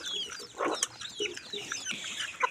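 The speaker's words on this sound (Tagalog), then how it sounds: "Nagsunod ang akong mga manok." Backyard chickens cluck and chatter close by, a busy scatter of short calls with a few sharper squawks as they squabble.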